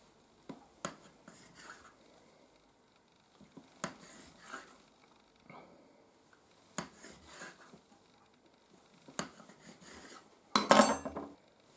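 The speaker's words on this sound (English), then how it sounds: "Roll it into a long sausage. And then cut it in 5 parts." A knife cuts a rolled log of Greek Easter bread dough into five pieces, with sharp taps against the board spaced apart in quiet surroundings and a louder clatter of handling near the end.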